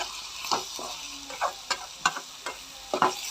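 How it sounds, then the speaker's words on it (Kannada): Onions fry in oil in a pan, with a steady close sizzle broken by short scraping stirs of a spoon or spatula every half second or so; no voices. "ಚಂದಮಾಗಿ ಫ್ರೈ ಮಾಡಿರಿ. ಕೆಂಪು ಆಗ್ಬೇಕು ನೋಡ್ರಿ ಉಳ್ಳಾಗಡ್ಡಿ."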